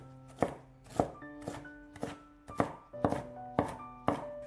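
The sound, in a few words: knife dicing green bell pepper on cutting board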